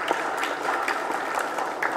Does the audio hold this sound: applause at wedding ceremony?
yes